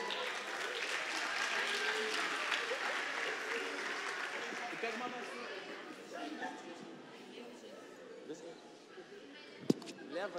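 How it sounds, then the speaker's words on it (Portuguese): An audience in a church applauds after a theatre skit, with a dense clapping wash that slowly fades and mixes with chatter and voices, then one sharp knock near the end. "Gente, uma salva de palmas."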